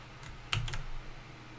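Someone types on a computer keyboard while coding, a few sharp key clicks close by, with one cluster of presses in the middle and quiet between.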